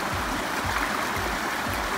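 Cold Smoky Mountain stream water near Abrams Falls rushes steadily in a close, continuous, even flow.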